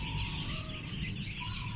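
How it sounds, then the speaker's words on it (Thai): Broiler chicks cheep in high, thin peeps that overlap continuously, close and fairly quiet, with no voices. "นี่แหละครับ ลูกไก่เนื้อนะครับ"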